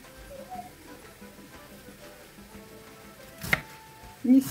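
Sorrel being chopped with a knife on a board, soft irregular taps close by with a sharper knock near the end, fairly quiet and without talk.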